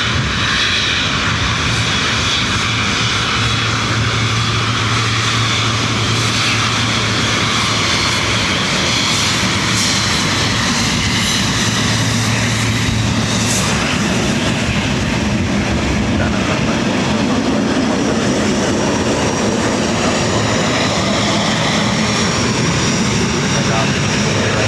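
A large airliner at Dublin Airport rumbles steadily with broad engine roar for the whole stretch, a low hum running underneath and voices talking over it.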